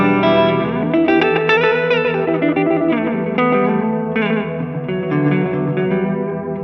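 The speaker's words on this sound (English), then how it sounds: "if I bring up input to reverb control, my direct sound is no longer dry" Sustained electric guitar chords played through a TC Electronic Infinite sample sustainer pedal with reverb, loud and dense, notes blending into a lush, smeared wash that holds steady throughout.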